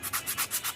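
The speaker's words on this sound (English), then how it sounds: "a lot of sanding, guys." Quick rhythmic sanding strokes rasp back and forth on a wooden fishing lure, about five passes in under a second, close and steady.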